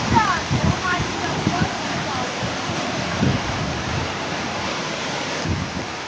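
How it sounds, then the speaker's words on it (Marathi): Water pours down from above into a stream below, a loud continuous rushing roar, with people talking over it. "वरनं बघा पाणी येतोय तो"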